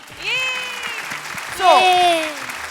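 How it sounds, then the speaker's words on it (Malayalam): A studio audience clapping at a Malayalam comedy show after a skit, sustained applause running through the stretch under bright musical tones and a voice. "ഒന്നും കൂടി നല്ലൊരു കൈയടി"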